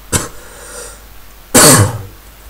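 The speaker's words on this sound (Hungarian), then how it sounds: "nem jó dolog ez a köhögés" A person coughs twice: a short cough, then a louder, harsher one about a second and a half later, with quiet pauses around both.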